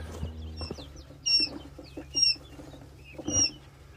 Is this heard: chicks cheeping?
yes